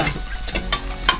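Ridge gourd pieces roast in a pan on a cooking show, giving a steady frying hiss with a few brief stirring scrapes, while two people talk over it.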